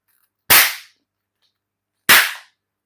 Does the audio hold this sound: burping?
no